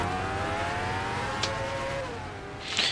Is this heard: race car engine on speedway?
yes